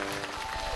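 Brief burst of audience clapping at a televised awards ceremony honouring agricultural figures, steady and dense for under a second with no voices.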